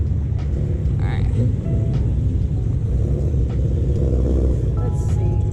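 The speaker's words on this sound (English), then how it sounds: "the cars are like pretty loud" Classic cars at an outdoor car show, a loud continuous engine rumble of vehicles rolling in, with brief higher noises over the top.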